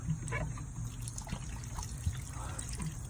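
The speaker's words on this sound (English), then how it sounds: "Fill this bottle up." Tap water trickles and splashes into a bottle being filled from a household pipe, a soft steady liquid pour with small drips, fairly close and quiet.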